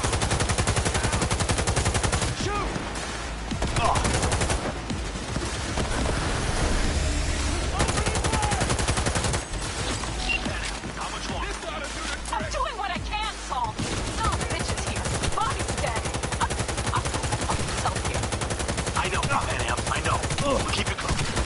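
Sustained gunfire in Cyberpunk 2077 plays through most of the stretch, a loud dense barrage of rapid shots with occasional bursts, mixed with game effects and faint speech.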